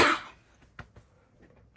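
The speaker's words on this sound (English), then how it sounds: "I've got a bit of a cough." A single harsh cough from an adult bursts out at the start during an ink-and-stencil Christmas star craft session, fading into a quiet room with a few soft, faint taps afterward.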